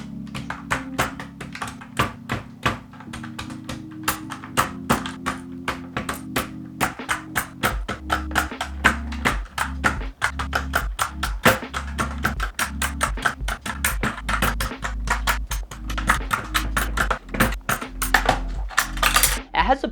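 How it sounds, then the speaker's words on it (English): Cheap mechanical keyboard being stripped of its keycaps and switches: a steady run of sharp plastic clicks and clacks close by, dense and irregular throughout, with rising hum-like tones in the background. "I started by stripping all the keycaps and switches from the keyboard."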